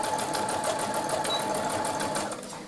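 Sewing machine stitching fabric for washable baby wipes, a steady fast whirring hum of the needle running close and continuous throughout.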